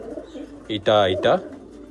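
A pigeon at a pigeon market in Chittagong gives a loud, close, throaty coo in two rolling pulses after a faint lead-in, with quiet background murmur.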